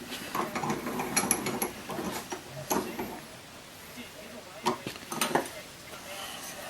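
A Harbor Freight tap handle ratchets while threading a hole, with irregular metallic clicks and clinks close by at low level, and a person talking partly over them.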